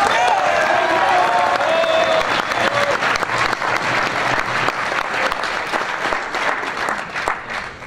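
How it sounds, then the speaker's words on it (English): Loud audience applause with cheering fills a press conference and signing day for a football recruit, a dense continuous roar of clapping that gradually tapers near the end. "Give me a round of applause."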